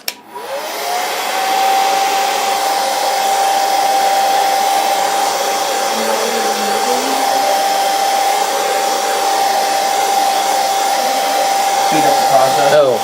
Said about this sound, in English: Did we bring a hairdryer in here?